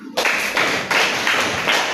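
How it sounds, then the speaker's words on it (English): A class of children clapping for a classmate during a school lesson on pollution and climate change, a few bursts of hand claps following one another in a dense, fairly loud patter. "Clap for him."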